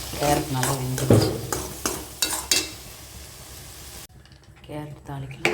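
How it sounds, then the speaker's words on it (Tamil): Steady sizzling of carrots being tempered in a pan, with stirring scrapes and a few clattering hits, a voice speaking briefly over it. "கேரட் தாளிக்கலாம்."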